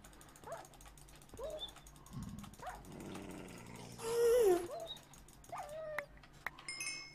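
A hostile dog-like creature in the Nether of Minecraft, a video game, lets out a loud growl amid clicking, ratcheting game sounds and ambient noise, without talk.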